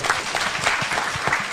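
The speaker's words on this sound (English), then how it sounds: "So let's clap for PS." An audience claps steadily and loudly at a World MSME Day event held in a hall at KICC in Nairobi, with dense applause and no pauses.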